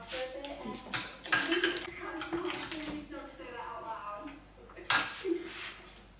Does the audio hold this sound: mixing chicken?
yes